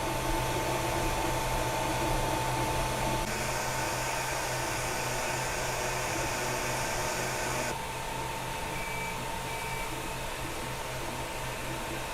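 A Longer LK5 Pro FDM 3D printer with a dual blower kit running a print: a steady whooshing fan hum that holds constant for the full stretch, with slight tonal shifts and no voices.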